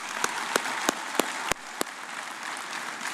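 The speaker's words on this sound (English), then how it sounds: "Distinguished guests, how about another round of applause?" Audience at a university graduation ceremony claps in a brief, moderately distant round of applause, with a few sharp individual claps standing out and the clapping thinning out toward the end.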